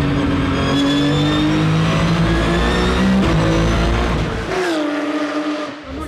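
Formula-style racing car speeding past on a street circuit in Baku, its engine revving loud and steady before dropping away near the end, with a faint tire squeal.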